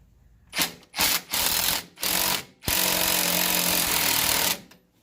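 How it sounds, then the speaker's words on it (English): An impact wrench tightens a nut from underneath in several loud rattling bursts, short stuttering hits at first and then one longer sustained hammering run before it stops, close by with no talking. "the bottom is gonna have to use the impact to tighten up the nut in the bottom."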